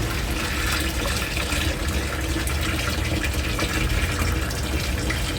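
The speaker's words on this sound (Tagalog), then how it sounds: "tutuloy ko lamang po yung aking paglalagay ng tubig o panibagong tubig dito sa aking mga" Fresh water pours into a drum that holds catfish, a dense, steady splashing rush that stays loud and constant throughout.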